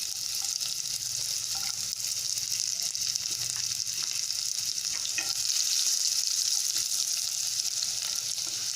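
Ginger and garlic sizzle in hot oil with browned cumin seeds, a steady, close, continuous frying hiss with faint stirring clicks throughout.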